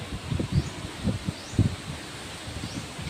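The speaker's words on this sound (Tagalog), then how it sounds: "Yung hangin dito sa malakas." Gusty wind blows outdoors in Brate during a rainy storm, with rustling leaves swelling in irregular bursts over a steady low rumble of wind noise, fairly close and moderate in level, with no talk.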